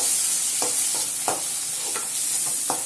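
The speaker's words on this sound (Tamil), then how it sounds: "போட்டுட்டு இந்த மாதிரி நல்லா கிண்டி விட்டுக்கோங்க." Chopped tomatoes fry in a pan for egg fried rice, sizzling steadily while a utensil stirs them in several distinct scraping strokes, close and clear with no talking.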